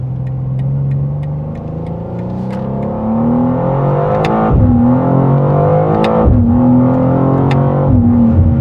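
A 2025 BMW M2 LCI accelerating hard from inside the cabin, its engine note climbing steadily and then dropping at quick gear shifts, loud and close with no talking.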